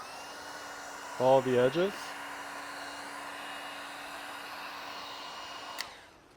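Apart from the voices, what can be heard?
heat gun post-heating vinyl wrap on Tesla Model 3 fender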